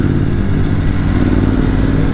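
BMW GS 850 adventure motorcycle pulling away on a ride, its steady engine note loud and close with a continuous low rumble and a light mechanical clatter throughout.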